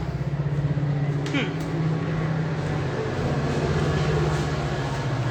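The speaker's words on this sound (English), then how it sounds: "Loud train." A loud train passing close by, a steady low rumble and grinding roar that holds throughout at constant strength, with a voice talking over it.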